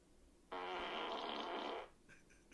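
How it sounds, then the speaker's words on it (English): A computer voice toy plays a single loud, wet fart sound lasting over a second, standing alone against quiet background. "Computer. Fart."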